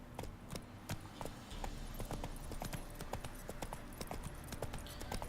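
Roach the horse's hooves clip-clopping in Witcher 3, a steady brisk series of sharp hoof strikes at close range over a low ambient bed, with a few louder knocks standing out.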